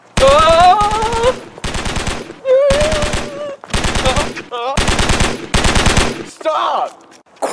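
Loud machine gun fire, close and repeated in several long rapid bursts separated by short pauses, with voices shouting between and over the bursts.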